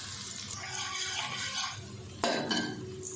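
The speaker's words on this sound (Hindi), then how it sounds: "अब इसमें डाल देंगे 1 प्याज। 1 से 2 मिनट इसको भी भून लेते हैं।" Onion hitting hot ghee in a pan gives a steady close sizzle and hiss, with a sharper clatter of a utensil against the pan near the end.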